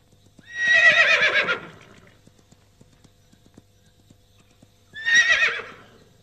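Horse hooves clip-clop in a quick gallop rhythm, joined by two loud, clear neighs or whinnies, one early and one near the end, with no talk.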